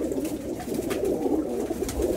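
Teddy pigeons cooing steadily in an aviary setup of male birds in Oman, low throaty coos overlapping continuously at close range with faint background noise.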